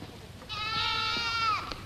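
A single goat gives a clear, wavering bleat lasting about a second, fairly close and loud over a quiet outdoor background, in a 1951 classic film.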